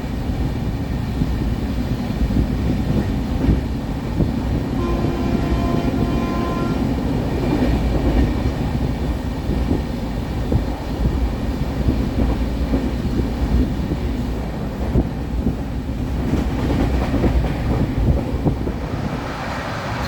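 The Kochuveli–Mumbai Express rolls at 110 km/h on the Konkan Railway, a continuous loud rumble of wheels and carriage noise with faint clickety-clack, heard from inside the train without talk.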